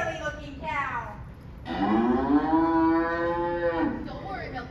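A cow moos on stage during a play, first a short low call, then a long, drawn-out bellowing moo that swells and fades, loud and close with no talk over it.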